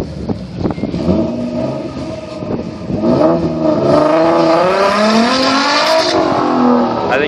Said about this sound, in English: Max did a fucking poor launch there